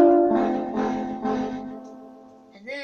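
Piano chords sound in several struck and sustained groups, fairly loud and close, fading into a decay, then a brief voice starts at the very end.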